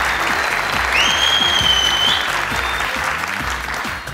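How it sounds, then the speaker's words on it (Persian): A television game show studio audience gives loud, sustained applause, with a sliding electronic whistle-like tone sounding over the clapping partway through. "یک تشویق جانانه و مستانه."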